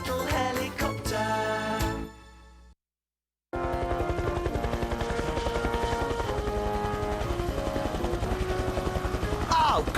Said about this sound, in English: Oh, Budgie's a little helicopter. He is nippy, look at him go